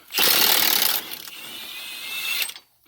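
A big pneumatic impact wrench hammers loose a 36 mm nut on a 2002–2006 Honda CR-V front suspension. A loud, dense burst of rapid rattling impacts runs for about a second, then a steadier, quieter whir before cutting off.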